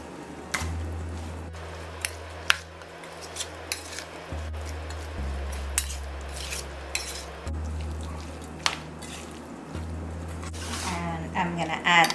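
A utensil stirs green seasoning of married man pork, green onion, garlic, wiri wiri peppers and onion in a bowl, giving soft squishy scrapes and small clinks, while a low steady hum runs beneath.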